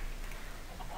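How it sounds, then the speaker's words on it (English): Chickens clucking steadily in a Minecraft survival farm, a dense, continuous layer of game-style fowl sounds heard on their own without talk. "I made a farm of chickens"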